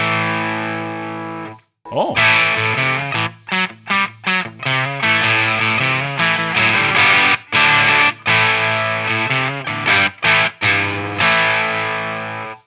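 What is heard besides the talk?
electric guitar through distortion pedal with gain turned down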